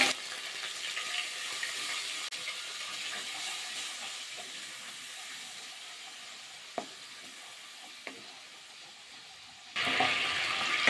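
Ginger, cumin powder and a little water sizzle in a pan for a vegetarian aubergine dish, giving a steady close frying hiss with a couple of sharp clicks before the sizzle bursts louder near the end.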